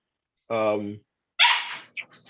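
A dog gives a short bark followed by a second yelping burst and a faint trailing yip, close and fairly loud, in a quiet indoor setting.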